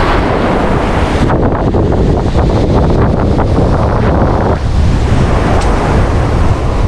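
Strong wind sweeps across the sea during the northeast monsoon at a fishing spot, a continuous loud roar with heavy buffeting on the microphone and the wash of surf underneath.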